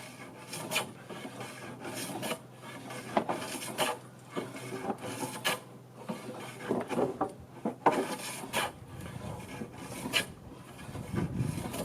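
Hand plane shaving across a wooden work tabletop, repeated rasping strokes in an uneven rhythm, close and moderately loud with no talking.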